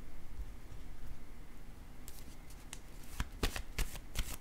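Tarot cards are handled, shuffled and laid down, giving quiet papery riffling followed by a series of crisp light slaps and flicks close by.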